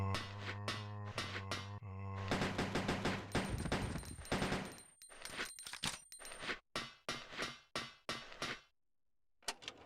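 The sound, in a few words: AK rifle gunfire in Resident Evil Code: Veronica X video game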